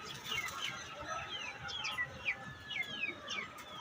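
Pigeons fly outdoors under a clear sky, their wings flapping in a soft, continuous flutter with repeated short bird calls over faint background noise.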